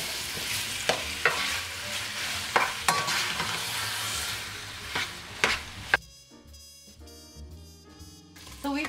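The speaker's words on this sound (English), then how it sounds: "We're adding the meat to the heated oil." Beef browning in heated oil, sizzling steadily up close while a spoon stirs it with sharp intermittent scrapes and knocks against the pot; the frying drops away near the end, leaving softer background sound.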